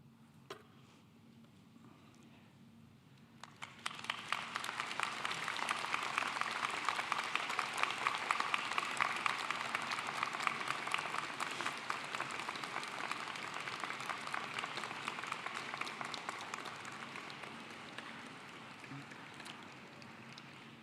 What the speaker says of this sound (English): applaud all who have helped you to get to this point